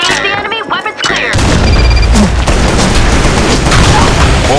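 A grenade explodes in the video game Insurgency: Sandstorm, a very loud, close boom followed by a sustained rumbling roar and debris noise after a brief voice.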